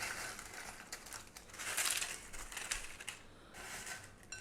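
Crisp crinkling and crunching as tortilla chips are layered into a metal oven dish over sauce for beef nachos, in bursts of rustling up close with brief pauses between handfuls.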